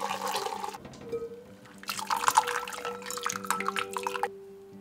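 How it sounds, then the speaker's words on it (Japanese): Boiled carrots are tipped from a pot of salted water into a colander, giving a near, splashing pour of hot water in two main gushes, followed by dripping and trickling. "切っておいた人参を入れ1分ほど茹でたらざるにあげ粗熱を取ります。"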